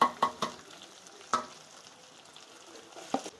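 Chopped onions sautéing in a pan with garlic and cumin, a low steady sizzle broken by a few sharp spoon scrapes and stirs near the start and end, no talking.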